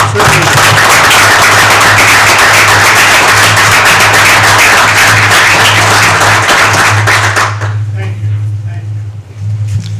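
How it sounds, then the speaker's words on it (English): Applause at a St. Croix County board meeting, a loud, sustained round of clapping from the room that runs about seven seconds and then stops abruptly, leaving quiet room tone. "I think a round of applause would be appropriate for his service."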